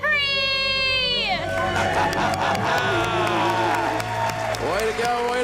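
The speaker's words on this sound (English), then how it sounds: "Let's hear a debt-free scream." A loud, sustained group scream rises and falls before breaking into a roaring studio crowd that cheers and claps at length, with voices shouting through the noise.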